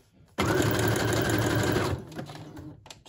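A sewing machine stitching a pocket onto a junk journal runs in a close, steady whirring burst for about a second and a half, then stops, leaving a few faint handling sounds.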